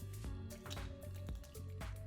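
A stirred drink is poured over ice at home, liquid dripping and splashing in quick irregular bursts with faint clinks, close and fairly quiet.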